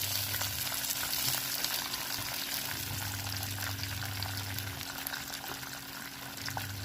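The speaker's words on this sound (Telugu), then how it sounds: "మిరపకాయలు వేసాను. వేసి ఇది పోపు వేసుకోవాలి" Dried red chillies and asafoetida fry in hot tempering oil, giving a steady, close, moderately loud sizzle and crackle that continues without pause.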